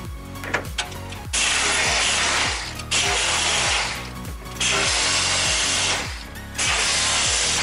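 Power drill driving screws into a metal drywall profile, several short bursts of whirring with motor spin-down between them, loud and close, no talk.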